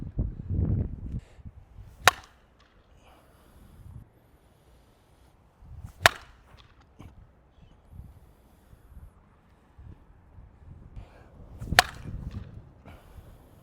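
Sharp, loud metallic cracks of a 2024 Worth Bedlam XL bat striking balls off a tee, three distinct hits spaced several seconds apart with quiet shuffling and movement between them.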